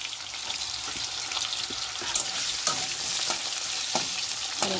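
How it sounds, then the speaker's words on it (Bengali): Carrots lightly frying in oil for a home-cooked vegetarian lunch, with an even, close sizzling hiss and occasional scrapes and clacks of stirring. No one speaks. "এবার আমি গাজরগুলোকেও হালকা করে ভেজে নেব"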